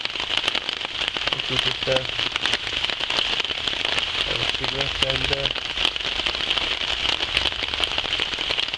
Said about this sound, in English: fall asleep listening to the rain